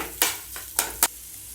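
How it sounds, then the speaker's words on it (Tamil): Potato masala sautéing in a pan for bonda: three sharp scraping stirs of a spatula against the pan over a faint background sizzle, close and without voices. "ஒரு 2 நிமிஷம் வதங்கினா போதும்."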